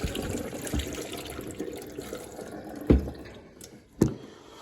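Water drained from a tumble dryer's water container into a sink: a continuous close trickle and splash with two louder gurgling glugs near the end.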